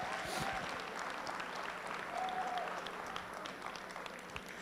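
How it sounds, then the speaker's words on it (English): A pep rally crowd at Glenville's Tarblooders event gives another round of applause, thick continuous clapping with a few shouts and whistles rising from the gym, tapering slightly toward the end. "Once again, give them another round of applause."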